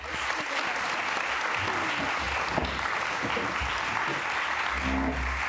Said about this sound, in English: Please give a warm round of applause for Lisa Connels, Stefan Barbier, Willa Stou